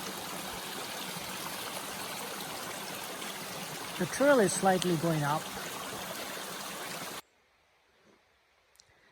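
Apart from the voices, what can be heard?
mountain stream flowing beside Horns Pond Trail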